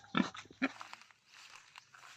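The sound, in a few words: pigs at a pig farm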